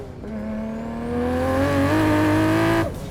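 A 930 whp Toyota Supra with a 2JZ engine accelerates hard, its rising engine tone climbing steadily for a few seconds before cutting off abruptly, loud and close with no talking.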